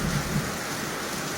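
Thunder rumbles low and briefly under a steady wash of rain during a rural storm, the deep roll strongest in the first half-second.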